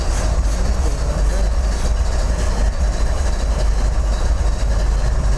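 A Norfolk Southern ES44AC freight locomotive in Nickel Plate Road heritage paint passes on the NS R-Line at Rock Hill, South Carolina, with a loud, steady rumble and rail noise close by, no talk.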